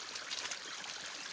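Water flowing from the Tafelkop spring, a steady close trickling stream with brief brighter splashy bursts early on, continuous and alone with no voices.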